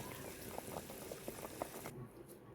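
Lal mohan sweets boil in syrup in a pot, a close, steady bubbling simmer with small popping bursts throughout, fading slightly at the end; no talking.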